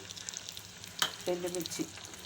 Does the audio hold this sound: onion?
yes